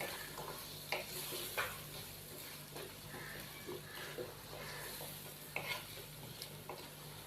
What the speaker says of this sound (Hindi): अच्छे से मिक्स करेंगे और आलूओं को हम 3 से 4 मिनट भून लेंगे।